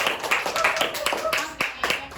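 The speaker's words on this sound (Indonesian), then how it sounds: "Tepuk tangan untuk Septi." An audience in a sharing session claps along in a loose rhythm of sharp, close hand claps for a speaker who has just shared an emotional story, with voices murmuring underneath.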